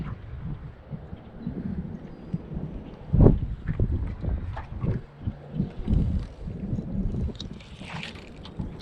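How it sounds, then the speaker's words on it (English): Gusty early-spring wind rushing over open shallow water in Wisconsin, with low buffeting thumps on the microphone rising and falling, one stronger gust near the middle. "The wind is not good."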